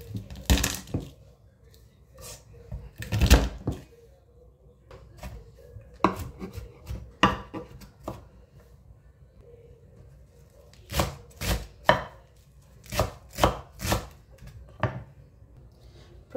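Garlic cloves are chopped on a cutting board, with a knife striking the board in sharp, close chops that come in irregular bursts and clusters separated by quiet pauses, and no talking.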